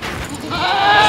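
A goat bleats on a goat farm: one drawn-out, wavering bleat that swells louder toward the end, fairly close and heard alone.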